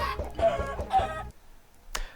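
A Minecraft chicken clucks in a quick series of short, close clucks, followed by a pause and one final brief cluck.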